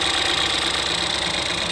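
A 2013-2016 Ford Escape with the 1.6L engine runs at idle after a valve cover replacement, giving a loud, steady, close mechanical drone with a faint ticking texture and no talk.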